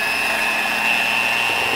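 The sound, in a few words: small drill running with a large chuck adapter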